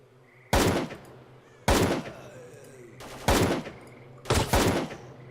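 Four heavy rifle shots from S.T.A.L.K.E.R. Call of Pripyat fire at slow, even intervals, each a sharp loud crack with a booming tail that rings out before the next, with no talking.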